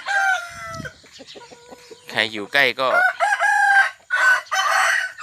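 A rooster crows loudly and close by in Chiang Yuen district, Maha Sarakham, Thailand, its drawn-out call rising and falling, with someone speaking briefly between crows.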